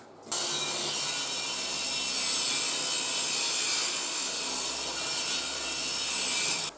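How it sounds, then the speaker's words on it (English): A table saw ripping a thin strip from a wooden board sounds as one continuous bright, hissing cut that starts abruptly, holds steady for about six seconds and stops sharply, close and fairly loud with no talking. "I'm going to rip that down on the table saw"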